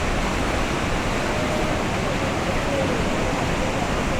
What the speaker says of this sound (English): The waves so much better today than they have been